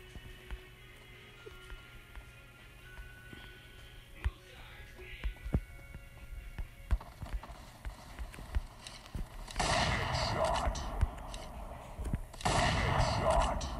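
Video game deathmatch gunfire, with scattered single shots and clicks building into loud dense bursts of automatic fire near the end, set against game ambience and occasional speech.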